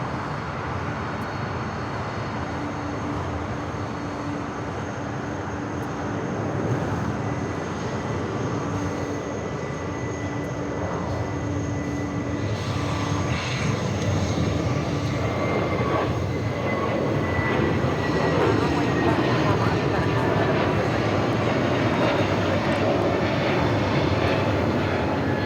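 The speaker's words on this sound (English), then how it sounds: "We're going to stay with the 747 here on the south." A Boeing 747 with Pratt & Whitney 4000 engines takes off at Los Angeles airport, a long steady jet roar that swells and holds from a distance, with faint whining tones over it.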